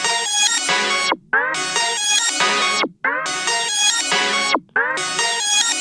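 A slowed-down, glitched beat sample processed with Shaper Box effects plays loud and upfront, bright ringing tonal bursts repeating in long phrases with sharp drop-outs between them.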